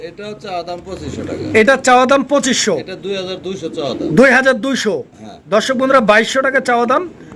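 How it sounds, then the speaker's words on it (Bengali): Fancy pigeons coo in repeated throaty bursts close by at a pigeon sale, with people talking over and between the calls. "এখানে আরো এক জোড়া কবুতর আছে"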